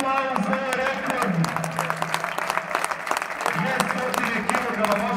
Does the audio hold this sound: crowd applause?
yes